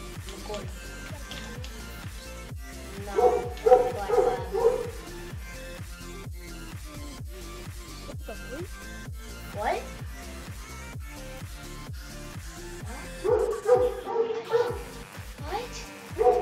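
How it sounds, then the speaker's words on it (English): Dog barking in repeated short bursts of yips and barks, a few fairly near clusters mixed in with a steady rhythmic beat of background game music, with no talking. "My dog needs to shut up."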